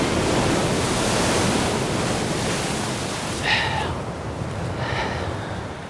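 Ocean surf rolling onto a Sydney beach, a steady broadband roar of breaking waves with wind, loud and continuous throughout.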